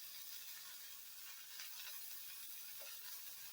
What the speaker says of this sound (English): I'm going ahead and throw my bacon in here. I don't eat pork, so I have turkey bacon.